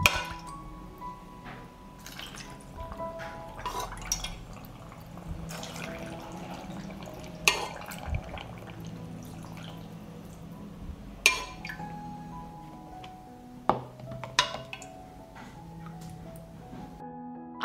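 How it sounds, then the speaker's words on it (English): Marinade pours over peppers packed in glass jars, giving a soft running trickle and drips with occasional bright glass clinks, close by and quiet, with nobody speaking. "Pour the marinade to cover the peppers."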